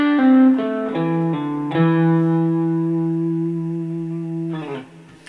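Electric guitar playing a pentatonic lick with wide intervals, using hammer-ons and pull-offs, a few quick attacks settling into a long ringing sustained note, close and alone with a touch of effects.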